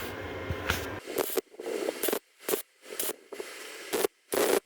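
A MIG welder lays beads on a Softail motorcycle frame, giving short bursts of crackling, spitting hiss at full voltage and wire speed 6, with abrupt silent gaps between each pass.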